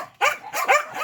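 Several pet dogs bark in close, loud bursts, three or four sharp barks with brief gaps, with no talking.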